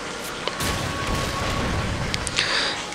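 Gunfire in the video game Darksiders 2, a dense, loud burst of booming shots and impacts packed close together over a rough rumbling bed.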